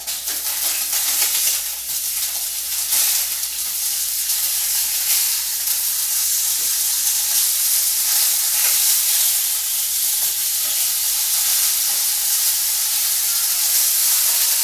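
Shrimp fry in a hot pan with a loud, continuous sizzle and scattered pops and crackles, steady and close throughout.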